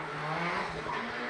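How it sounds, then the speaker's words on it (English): A pro drift car powers out of the final corner at Baypark Stadium during D1NZ Pro-Championship qualifying, its engine roaring loud and continuous with tyre squeal and skid noise throughout. "A nice lap for Andrew Redwood, powering out of the final corner, slowing down."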